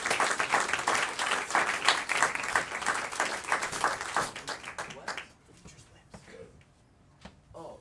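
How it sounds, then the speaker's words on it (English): Audience applause for the Tom and Kelly Music Center at a high school jazz combo and big band concert, a dense sustained clapping that fades out after about five seconds, leaving quieter room sound. "So big round of applause for Tom and Kelly Music Center"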